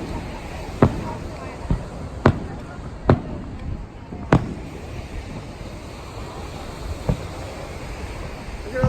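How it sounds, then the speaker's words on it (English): Fourth of July fireworks over Redondo Beach, scattered distant booms and sharp pops at irregular intervals over a steady wash of surf and wind. "there's just some some fireworks. See, they're still going on."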